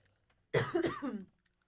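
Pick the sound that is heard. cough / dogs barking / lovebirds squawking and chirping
cough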